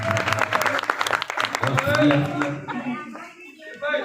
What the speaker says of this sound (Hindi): जरा भरपूर तालियां बजाएं